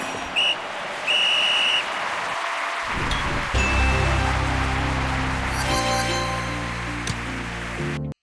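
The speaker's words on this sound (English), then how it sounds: "The whistle has been blown to start this much-anticipated game." A referee's whistle sounds in the video game Football Master 2, short sharp blasts and a longer shrill toot over a steady rain-like crowd roar, with music-like tones coming in later.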